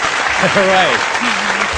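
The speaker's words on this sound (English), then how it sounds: "My mom loves those applause breaks." A comedy audience breaks into loud applause after a joke, the clapping dense and close while a voice speaks over it.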